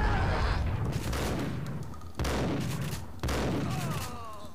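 Shotgun blasts in Max Payne, three heavy booming shots spaced about a second apart, each with a long decaying rumble amid in-game action.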